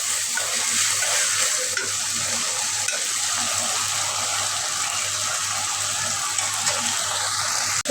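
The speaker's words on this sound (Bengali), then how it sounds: "ওই জায়গায় তো সব মশলাগুলো কষাই নিচ্ছি" Spices sauté in a pan with fish nearby, making a steady close sizzle with soft stirring scrapes throughout and a low mains hum underneath, ending in a brief clatter.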